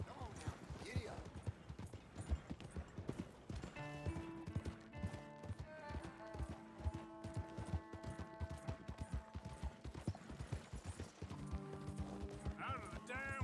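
Horse hooves clip-clop at a trot in the Red Dead Redemption 2 video game, a quick steady rhythm running throughout, with tonal music chords and brief voices around it.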